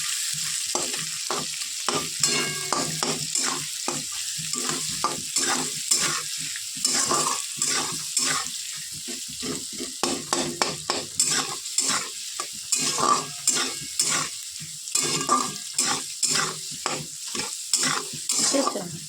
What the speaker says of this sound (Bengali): তারপর ওখান থেকে হাড়ের থেকে কিছুটা খিচুড়ি ঢেলে কড়াইয়ের মধ্যে দিয়ে দেবো